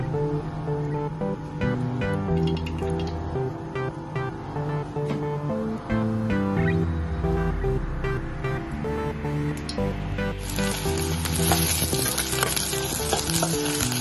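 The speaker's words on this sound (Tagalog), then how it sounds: "So, pinisa ko na yung luya, onion, at garlic." Ginger, onion and garlic saute in olive oil for tilapia paksiw, a loud steady sizzle broken by scraping stirs and clinks of a spatula against the pan, close by with no talking.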